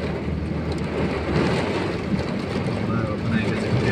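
Heavy rain pours steadily in Jeddah, Saudi Arabia, a dense, constant roar of water with wind buffeting the microphone, while a voice talks faintly underneath.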